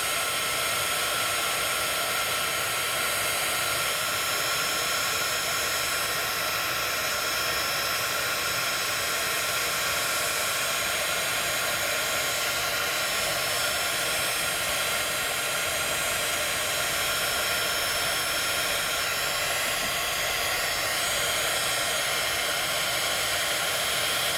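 Heat embossing tool blowing hot air over crafting crystals to emboss them, a steady close broadband whoosh that holds evenly for the whole stretch with no voices.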